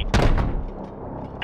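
Heavy aircraft cannon round fired from above in a Call of Duty: Modern Warfare Remastered gunship mission, one loud booming shot with a rumbling decay, followed by a short radio-style voice cue.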